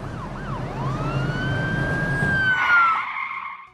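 Police jeep siren in a cartoon scene, a loud rising and falling wail that sweeps up, then holds a long steady tone over rumbling engine noise before cutting off, with no voices.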